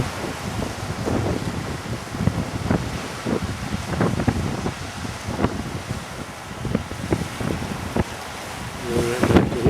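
Strong wind buffets the microphone at the far end of a pier in Ireland, a steady roaring rumble with gusty surges and probable surf below, no voices heard.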